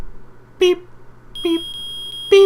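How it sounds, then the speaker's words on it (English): Three short electronic beeps from a video game metal detector, spaced about a second apart, each with a bright tone, over a quiet hum; a steady high tone lingers after the second beep. "I permit the use of the metal detector"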